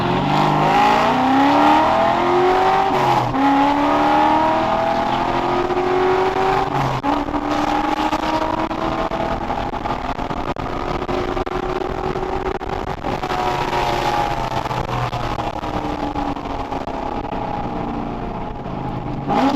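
A Corvette engine idles steadily and loudly, a deep continuous rumble with slight wavering in pitch and a couple of brief blips, no voices over it.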